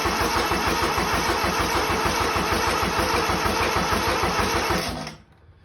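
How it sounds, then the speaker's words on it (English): Kubota G6200 turbo diesel engine cranking with a fast, even rhythmic churn, loud and close, running steadily for about five seconds before cutting off into near silence. "And then we'll go ahead and crank."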